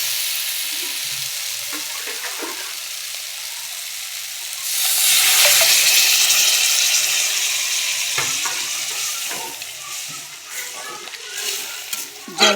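Water poured into a pan of sautéed mixed vegetables sets off a sudden loud sizzling hiss that swells and then slowly settles back to a gentle simmering crackle, with a faint voice nearby.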